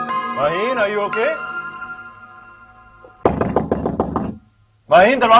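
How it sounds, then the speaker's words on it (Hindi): Someone knocks on a door in rapid, repeated raps within a TV drama scene, with a voice calling out loudly before and after the knocking. "माहिन, माहिन, दरवाजा खोलो वरना मैं तोड़ दूंगा।"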